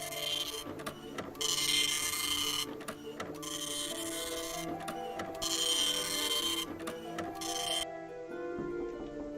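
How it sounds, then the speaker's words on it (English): A printer in the video game Snail Trek whirs to life and prints, with rhythmic mechanical buzzing passes broken by brief pauses, running steadily and close, then cutting off near the end. "You push the button on the printer and it comes to life."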